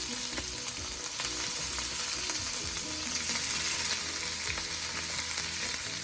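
A blended mixture goes into a pan of popping seeds and sizzles steadily. The frying hiss is loud and continuous, with faint stirring scrapes and no talk.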